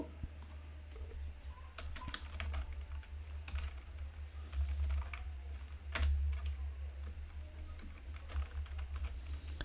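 Product name typed on a computer keyboard: quiet, close key clicks in an uneven, continuous run over a low steady hum, with no voices.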